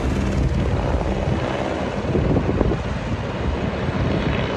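A helicopter flies above a mountain during a police pursuit, its broadband rotor and engine roar steady and loud throughout, mixed with rushing wind buffeting the microphone and no voices.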